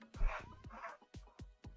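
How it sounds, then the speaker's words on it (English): A dog barks about four times in quick succession, sharp and moderately close, during a 3D printer build. "Sorry for the barking if you guys can hear it."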